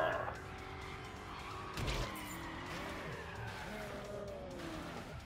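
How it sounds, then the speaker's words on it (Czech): Car in Carmageddon: Max Damage on PS4 skidding and spinning out, tires squealing in wavering sweeps over engine noise, with a thud near the two-second mark; close and continuous. "auto se rádo přetáčí"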